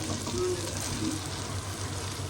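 Lentils hit a pan of fried masala, giving a steady soft sizzle and frying hiss throughout, fairly quiet and close with no talking.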